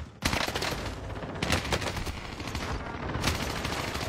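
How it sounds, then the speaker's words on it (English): Rapid bursts of automatic gunfire from an MP40 submachine gun in a first-person shooter game, several loud volleys with short gaps, firing alone with no talk. "It's an MP40 gun."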